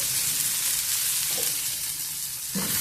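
Tomato, garlic and coriander sizzle steadily in a pan as a radish chutney cooks, a constant hissing fry with a couple of soft stirring bumps, close and alone.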